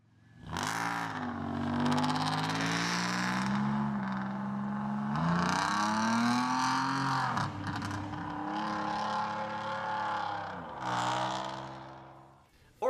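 Race cars at GingerMan track drone past with revving engine tones that rise and fall in long sweeps, loud and continuous for several seconds with no talking.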